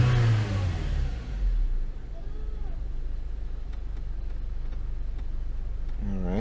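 The engine of a 2007 Saab 9-3 1.8t revs on a test drive, starting with a loud low rev that falls away. A steady driving rumble follows, and a short rev returns at the end.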